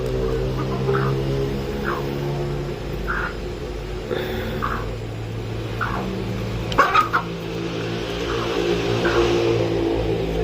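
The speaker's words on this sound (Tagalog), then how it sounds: "Manok sa unahon, Ming" Chickens cluck in short, repeated calls against a steady low engine drone, the clucks spaced every second or so and moderately close, with a brief louder rustle midway.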